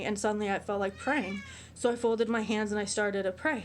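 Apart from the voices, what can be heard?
pet cat meowing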